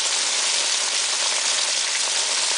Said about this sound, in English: This is what you call rain.